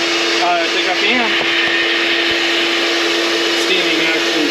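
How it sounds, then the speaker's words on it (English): A loud steam cleaner hisses and roars continuously while cleaning a dirty truck day cab, with a steady mechanical whine and a voice faintly under the noise. "Here's some steaming action."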